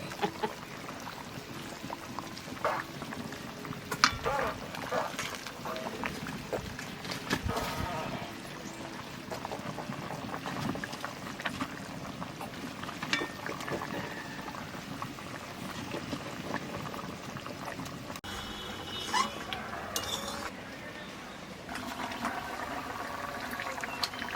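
Hilsa fish curry with eggplant and green chillies simmers in a pot, a continuous bubbling and light liquid movement with occasional louder clatters, while a voice talks at times.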